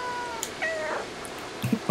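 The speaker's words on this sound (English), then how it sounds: "Meow." A cat meows in the video game Stray, a short, close, bright call with a rising-falling pitch, followed by a faint scuffle at the end.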